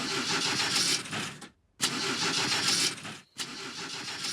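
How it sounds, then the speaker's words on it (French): A cartoon fairy car engine cranks and starts in two long harsh whirring bursts split by abrupt silences, close and loud, with no talking. "je vais maintenant démarrer le moteur"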